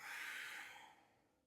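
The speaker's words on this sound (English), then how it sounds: "One more inhale." A single long inhale during a beginner vinyasa yoga flow, close and breathy, swelling quickly and then fading over about a second and a half, with no talking.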